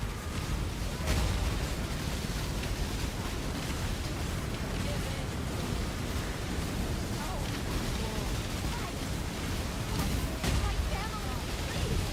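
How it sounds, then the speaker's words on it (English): Overlapping spell explosions in the action RPG Path of Exile, a dense continuous roar of blasts with sharper bursts near the start and end, loud and unbroken. "If I hit a lot of things, especially a lot of things close to me, my explosions overlap."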